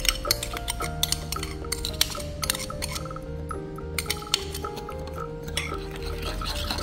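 A spoon stirs a mixture of egg yolk, fish sauce and chili sauce in a bowl, giving a run of quick, uneven clinks and scrapes against the bowl, close and fairly quiet.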